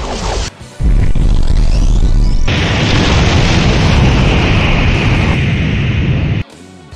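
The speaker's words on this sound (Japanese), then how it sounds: "やっぱ爆発よね。" A loud, sustained explosion blast in the video game Grandia 2 HD Remaster, erupting suddenly after a brief thump and roaring densely for several seconds before cutting off abruptly.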